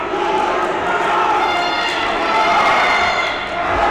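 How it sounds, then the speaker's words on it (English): A crowd cheers and murmurs steadily in a gym at a junior varsity wrestling match, a loud, continuous wash of voices with a brief shout and thuds near the end. "You can hear all the cheering."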